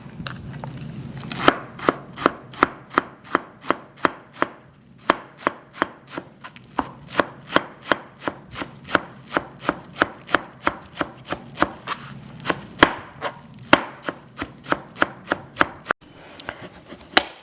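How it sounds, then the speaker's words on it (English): Steady, rapid knife chopping of cilantro on a cutting board, dozens of crisp close strikes in an even rhythm with a few brief pauses. "Now chopping the cilantro."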